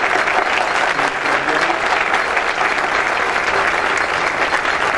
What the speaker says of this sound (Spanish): Que se oiga fuerte el aplauso